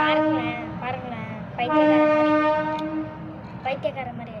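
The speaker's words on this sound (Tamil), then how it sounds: "ட்ரெயின் வந்துருச்சு, ரொம்ப சவுண்டாக இருக்கு." A train horn blares in several long, loud blasts while the train rumbles past nearby, with a steady low rail noise underneath and a person speaking over it.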